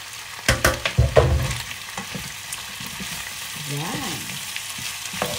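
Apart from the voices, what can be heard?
chicken feet being sautéed in a pan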